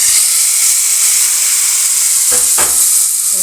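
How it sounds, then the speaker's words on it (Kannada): A hot tempering of curry leaves and asafoetida sizzles loudly as it is poured, giving a dense continuous hiss and steamy crackle with a couple of brief clinks near the end. "ಒಗ್ಗರಣೆ ಹಾಕಿ ರೆಡಿ ಆಯಿತು"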